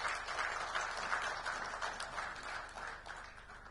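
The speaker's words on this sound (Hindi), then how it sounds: "एक बार जोरदार तालियां महेश कश्यप जी के लिए" A crowd at a BJP public gathering in Jagdalpur claps loudly for Mahesh Kashyap, a dense, steady roar of many hands that carries for several seconds without pause.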